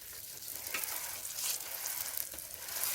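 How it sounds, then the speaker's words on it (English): Plantain tatale, a Ghanaian spiced plantain fritter, fries in hot oil with a steady bright sizzle and crackle, swelling slightly with a few sharper pops, close and alone. "We can also deep fry this with a lot of oil."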